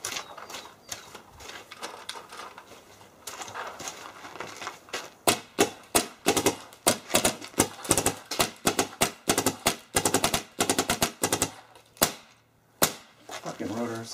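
MacDev Droid and Cyborg airsoft guns fire close by in a fast, sharp mechanical clatter, with rapid bursts of clicks and puffs rattling in uneven strings and a brief pause near the end.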